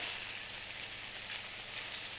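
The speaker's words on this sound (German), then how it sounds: "Einfach so, dass hier auf der Seite auch angebraten wird." Bacon and meat sizzle steadily in a frying pan, a continuous close hiss with faint crackle and no talk.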